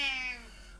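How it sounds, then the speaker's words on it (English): A pet cat gives a single short, clear meow, close and fairly loud, with a falling tone that fades out within a second. "And this is my cat Lou."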